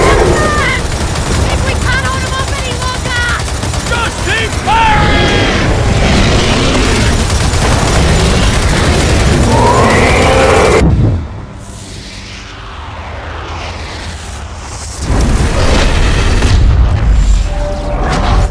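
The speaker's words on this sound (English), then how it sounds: "Just keep firing!" In the Gears of War 4 prologue, dense game gunfire and booming blasts pound loudly under shouting voices, break into a quieter stretch, and then resume.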